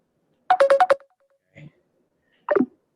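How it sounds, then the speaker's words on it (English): A phone ringtone for an incoming call, a short burst of rapid bright electronic tones followed by two briefer chirps, clear and close against an otherwise quiet room. "excuse me, a phone call is coming."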